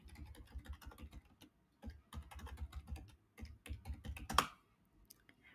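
Fingers type on a computer keyboard in quick, irregular bursts of close, crisp key clicks with short pauses, ending in one sharper, heavier keystroke like the Enter key.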